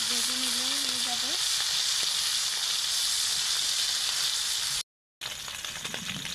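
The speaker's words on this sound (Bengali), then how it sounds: "মাছগুলো খুব বেশি কড়া করে ভেজে নেওয়ার দরকার নেই, অল্প করে ভেজে নিলেই হয়ে যাবে" Small puti fish frying in oil in a pan, a steady bright sizzle and hiss throughout, with a brief cut in the middle and a soft tonal sound near the start.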